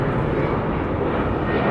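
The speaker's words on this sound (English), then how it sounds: "There's an airplane flying over." An airplane passes overhead as a steady, broad engine roar that holds loud and even across the whole short stretch, with no voices over it.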